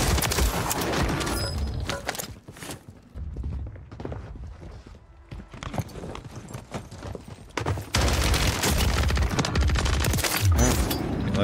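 Loud bursts of automatic gunfire from a shooter in Call of Duty Warzone 3, rapid volleys at the start, a quieter stretch in the middle, then dense heavy firing again toward the end.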